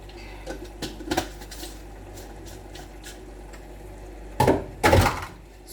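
Spoon stirring a pot of yam and beans porridge, giving soft wet scrapes and a few sharp knocks against the pot, with louder clatters near the end, close by and no voices.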